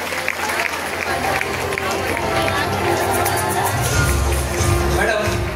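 Audience at the Lokmat Shravan Sohala Mangalagaur stage celebration claps and cheers loudly for the women performers, a steady wash of applause and crowd noise with a low rumble underneath, sustained throughout.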